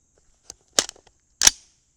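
Two sharp, close rifle reports from a 5.56 rifle firing 75-grain Swift Scirocco II bullets, the second louder, each a short crack with a brief tail and silence around it.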